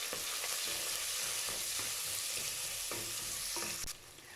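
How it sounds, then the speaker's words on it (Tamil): Onions, green chillies and curry leaves fry in a pan after mustard seeds have popped, making a steady close sizzle with occasional stirring scrapes, alone without talk, easing slightly near the end. "வெங்காயம் பாதி வதங்கிருச்சு."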